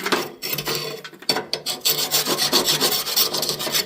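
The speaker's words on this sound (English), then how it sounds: "you just use your scraper, scrape down in here" A metal scraper rasps ash out of a Harman 52i pellet insert in quick, vigorous strokes, a close and fairly loud grating rhythm of repeated scrapes with brief pauses between bursts.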